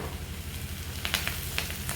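Curry leaves sauté in a pan of softened masala for prawn thokku gravy: a steady low sizzle with a few faint crackles and pops in the second half.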